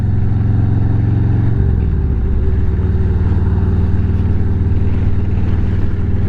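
A Harley-Davidson motorcycle rides at a steady pace with a loud, continuous engine drone. The pitch drops once after about a second and a half, like a gear change.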